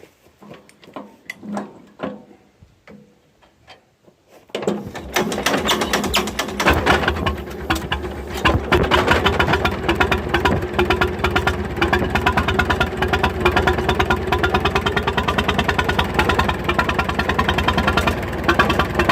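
A Farmall Regular tractor's old engine starts up after some quiet clicks and handling, then runs steadily and loudly with a rough, pulsing idle that stays close and constant.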